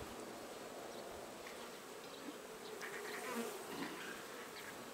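Honeybees buzz around an opened hive during a spring inspection of the frames, a steady, fairly faint hum with no talking.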